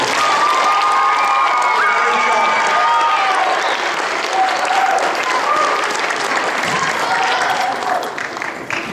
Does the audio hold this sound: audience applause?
yes